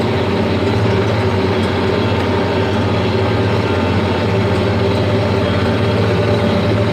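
A tractor engine runs at a steady, loud, low drone while seeding in the field, in a tractor that has had its transmission replaced several times; the hum stays constant, with no talk.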